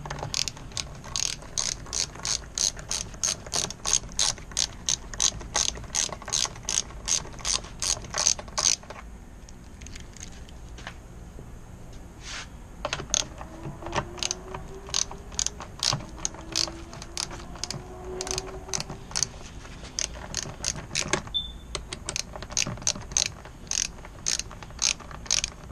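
A ratchet works loose the bottom screw of a Go-Ped scooter's gas tank, giving long runs of sharp, rapid, close clicks, with a short pause midway before the clicking resumes; nobody speaks.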